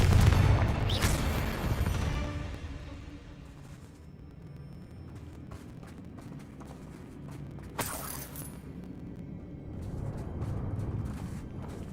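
Confringo blasting spells detonate in Hogwarts Legacy, a heavy boom opening the clip with rumbling low debris and a second sharp blast near the end amid game ambience.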